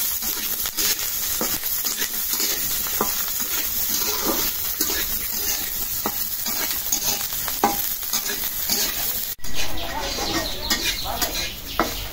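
Onion, garlic and green chili frying in oil for a country chicken and potato curry, a steady dense sizzle with scraping stirs throughout, a brief dip near the end, birds faintly in the background.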